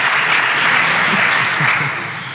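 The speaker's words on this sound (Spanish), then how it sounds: "Aplauso, aplauso." Applause fills a conference hall at a big data analytics presentation, a dense wash of clapping that holds steady and then tapers slightly at the end.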